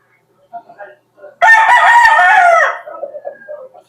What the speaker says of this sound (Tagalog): Guwapong manok mga boss.